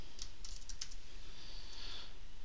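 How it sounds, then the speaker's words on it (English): Brief bursts of quick computer keyboard keystrokes, close but soft over a constant background hiss, with a short pause between clusters. "we'll just go ahead and type in a fake name here"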